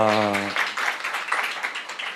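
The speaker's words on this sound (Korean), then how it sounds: "우리 교수님 박수 한번 드리도록 하겠습니다." Applause from a seated audience at a book concert for a professor's new book, a broad wash of clapping that follows a brief voice at the start and carries on steadily to the end.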